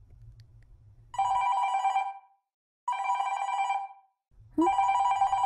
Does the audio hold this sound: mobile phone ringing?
yes